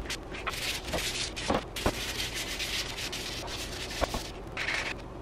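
Steady rasping strokes of 100-grit sandpaper rubbing back and forth over a wooden staircase railing, close and continuous with a few sharper scuffs along the way.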